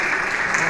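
Brief burst of steady audience applause at a corporate event, a dense even patter of many hands clapping throughout.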